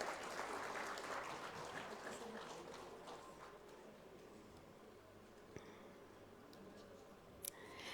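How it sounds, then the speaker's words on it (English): Applause at a medical awards ceremony in obstetrics and gynaecology, a faint, distant wash of clapping that holds steady and slowly fades, with a couple of sharper clicks near the end. "A big round of applause for Dr."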